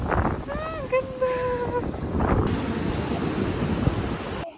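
Gusty wind buffets the microphone in an outdoor park in Taiwan, a steady low rumble that swells and dips, with a whistled or sung melodic tone briefly heard early on.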